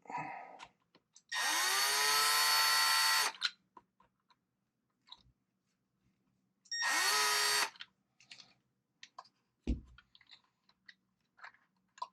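A cordless drill drives a longer screw into a Traxxas XRT RC truck part in two loud, steady whirring bursts of about two seconds each, followed by faint handling clicks and taps.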